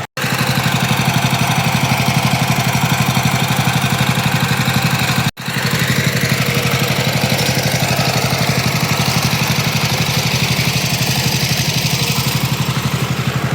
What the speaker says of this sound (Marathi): ट्रॅक्टरमुळे तुम्हाला आवाज येत नसेल.